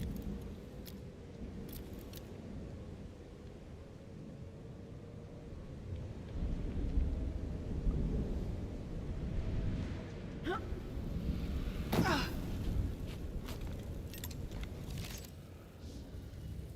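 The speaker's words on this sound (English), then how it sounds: "That's one hell of a storm." A thunderstorm rumbles in the video game Aphelion, low continuous rolling thunder that swells midway, with a couple of sharp crackling strikes breaking through near the end.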